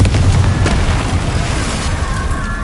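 The Confringo fire spell from Hogwarts Legacy explodes with a loud, dense, sustained roaring blast. It fills the whole moment with heavy low rumble and no clear pauses.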